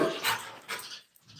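A household dog makes a few short, soft whimpering yelps close by, two brief bursts that trail off into quiet.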